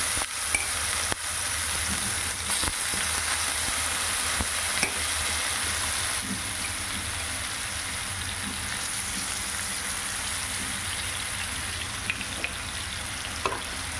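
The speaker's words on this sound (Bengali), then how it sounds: "এবার এটা নেড়ে চেড়ে তেলের মধ্যে নেড়ে চেড়ে ভালো করে এটা একটু ঢাকা দিয়ে রেখে দেব।" Radish fried in oil in a frying pan with chilli and a pinch of turmeric, sizzling steadily and loudly throughout while it is stirred, with occasional soft scrapes and knocks.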